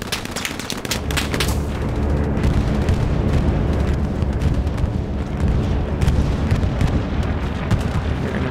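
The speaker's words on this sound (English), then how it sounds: "Oh, tank shot at me." Heavy explosion and gunfire in the World War II shooter Hell Let Loose: an opening burst of sharp cracks, then a dense, sustained roaring rumble with scattered shots through it, loud and continuous, with no voices.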